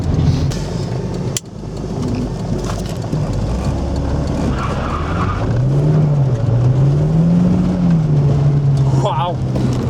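A Volvo 940 Turbo engine drones and revs close up while drifting, pitch rising and falling in waves as it slides, with rattles and knocks from loose items inside the cabin.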